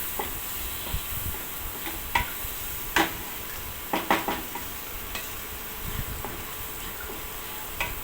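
Chopped tomatoes are sautéed in masala in a pan for kadala roast, with a soft steady sizzle and hiss beneath repeated scraping and stirring clicks of a spoon against the pan.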